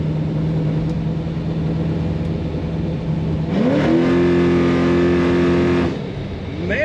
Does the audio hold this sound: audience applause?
no